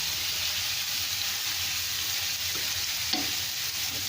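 Chili powder is stirred into spices frying in olive oil in a pan for a yogurt fish curry. A steady close sizzle runs throughout, with soft scraping from the stirring and no voices.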